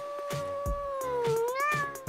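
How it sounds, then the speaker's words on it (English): A cat stuck on a rooftop meows repeatedly in a cartoon scene, a series of close, loud, drawn-out wavering cries with no talk over them. "Oh no, my precious kitty cat is stuck on the roof."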